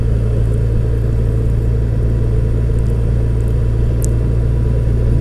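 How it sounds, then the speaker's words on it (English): A 2015 Yamaha FJR 1300 ES touring motorcycle cruises along quiet country back roads, its engine a steady, loud low drone mixed with wind rush, with no change in pace throughout. "Today I am aboard Raven. That's my new 2015 Yamaha FJR 1300"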